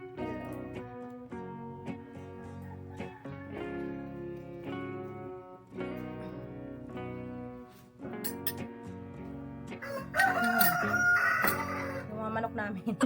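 Backyard chickens make a noisy racket, with roosters crowing in long drawn-out calls and hens clucking close by, one after another, and voices chatting faintly underneath.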